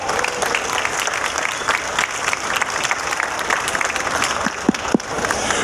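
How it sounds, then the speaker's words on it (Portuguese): A crowd at a legislative assembly panel on the palm oil production chain breaks into sustained, loud applause, continuous clapping with a few sharp near claps toward the end. "pedimos uma grande salva de palmas"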